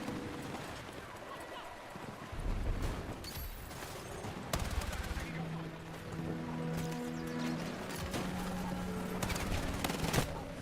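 Battlefield video game combat: bursts of automatic gunfire and sharp shots crackle amid layered explosions and engine noise, busy and dense throughout, with a voice talking over it.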